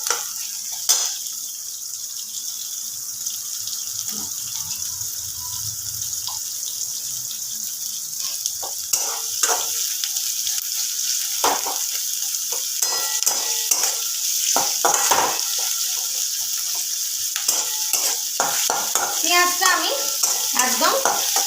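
Onions fry in a pan until light brown for soybean muitha, giving a continuous bright sizzle broken by repeated scraping strokes of a spoon stirring them close up.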